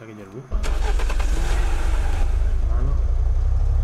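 A car engine in the video game Unturned cranks and catches, then settles into a loud, steady idle rumble that fills the rest of the clip, with voices talking over it.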